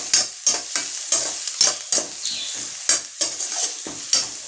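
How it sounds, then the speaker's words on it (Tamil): Curry leaves, cauliflower and potato tossed and sautéed in a pan, with a steady run of scraping stirs, each stroke a short sizzling swish, repeating every half second or so, close and alone. "இவங்க நல்லா இப்படிக்கா அப்படிக்கா பெரட்டி நல்லா திருப்பி வதக்குன்னு வதக்கிக்கலாம்"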